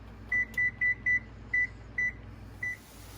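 A kitchen timer, set to cook Salisbury steak, gives seven short, clear electronic beeps in quick button-press succession, near and fairly loud over a low appliance hum.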